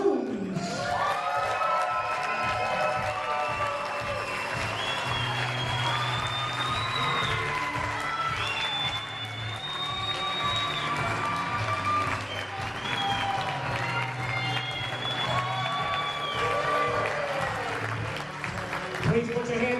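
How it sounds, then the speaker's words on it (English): Wedding guests at a hotel bridal party introduction applaud and cheer for the bride's parents, a sustained wash of clapping with whoops and crowd noise and music underneath, holding steady for the whole stretch. "have a big round of applause for the parents of the bride, Mary Lynn and Earl Coons"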